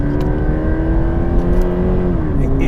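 A Toyota GT86 sports car drives with a loud, steady engine drone, the pitch holding and then dipping slightly under load as it moves along, heard from close range with no talk.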